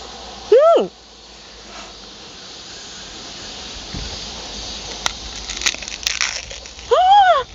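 Two crisp, crunchy bites into a fresh kinatsu fruit, a new variety, one near the start and one at the end, with quiet chewing and faint background noise between them.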